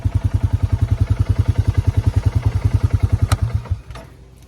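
A four-wheeler ATV engine chugs in a steady rapid thumping rhythm close by, then the sound drops away and fades near the end.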